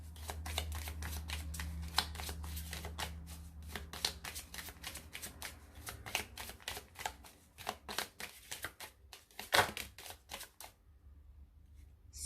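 Medicine Oracle cards are shuffled in a steady run of close, crisp riffling and flicking bursts that fade into a few sharp single snaps near the end, with no talking.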